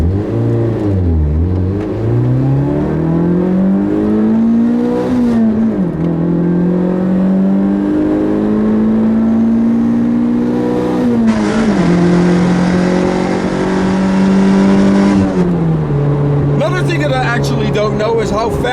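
A 1986 Toyota MR2 revs up and drops back repeatedly as it shifts through its gears, a loud, close engine note rising and falling in steps, with a burst of hiss midway.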